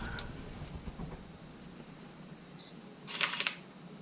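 A faulty Sony A7R camera shutter fires, sharp faint mechanical clicks near the start, with a harsher double clack toward the end over quiet room noise.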